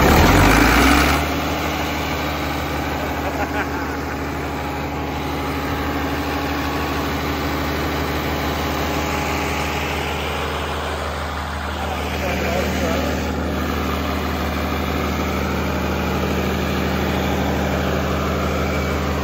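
Once the starter is pulled, a heavy engine settles into a steady, loud idle with a low, even rumble and vibration that continues unchanged throughout.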